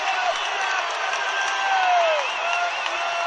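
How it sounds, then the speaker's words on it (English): Basketball fans roar inside Climate Pledge arena at a college game between Seattle and Washington, a steady crowd din of cheers and whoops that fills the space, with an announcer's voice running over it. "Husky fans erupt here inside Climate Pledge"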